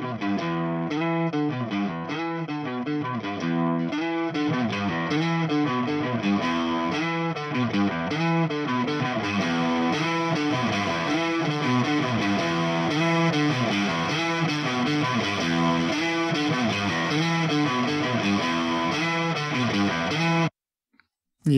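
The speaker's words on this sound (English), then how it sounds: "Yeah, that gives us enough distortion." Heavily distorted electric guitar run through a drive pedal into a TH3 amp plugin, chugging rhythmic riffs loud and continuous for about twenty seconds, then stopping abruptly.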